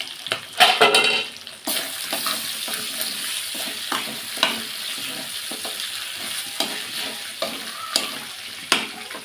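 Pieces of meat sizzle and fry in a pot for Bengali kosha, a dense, bright crackle at close range, broken by repeated scraping stirs and the clink of a spatula against metal.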